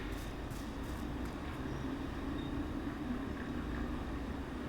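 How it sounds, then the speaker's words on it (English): Steady wind rushes and whistles past an aircraft in Microsoft Flight Simulator 2024, a continuous broadband roar with no breaks, fairly quiet and constant throughout. "Hear the wind whistling?"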